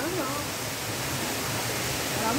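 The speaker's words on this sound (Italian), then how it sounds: "Ecco le cascate del Dardagna." The Dardagna waterfalls give a steady, broad rush of falling water that stays close and even from start to finish, with no break.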